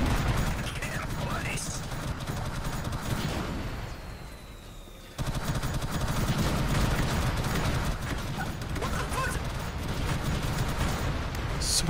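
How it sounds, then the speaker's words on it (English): Dense, continuous rumbling gunfire and blasts from a Star Wars roleplay battle in Garry's Mod, loud throughout with a brief dip in the middle. "So much goddamn explosions."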